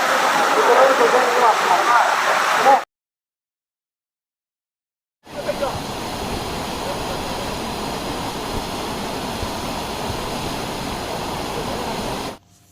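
Steady roaring rush of water at a waterfall near Udaipur, loud and continuous, broken by a few seconds of silence before the roar resumes.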